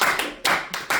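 A church congregation applauding, bursts of dense close clapping that rise and fall in three quick surges with no voices.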